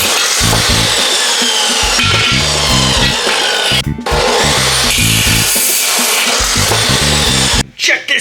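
Metal rail for a front bumper on a 1987 EZGO Marathon golf cart being cut to size, a loud rhythmic rasping of repeated strokes with two brief pauses.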